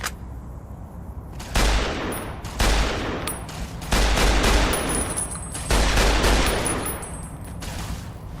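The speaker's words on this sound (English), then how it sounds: "let's try survivalist rifle" Survivalist rifle fire in Fallout: New Vegas lands as loud, close shots in four separate bursts, each followed by a ringing tail, with short quieter gaps between them.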